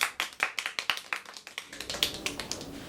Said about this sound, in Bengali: হ্যাপি ভাই জন্য হাতে তালি হয়ে যাও।